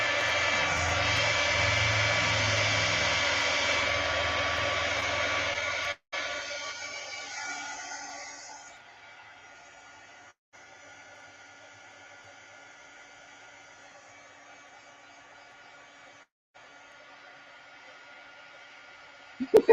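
A handheld dryer drying a mixed media artwork on a piano roll scroll blows with a loud, steady whoosh for about six seconds, then drops to a much quieter airy whir.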